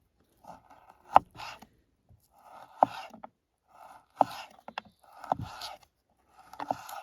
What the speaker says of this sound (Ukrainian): Нарізаю сало.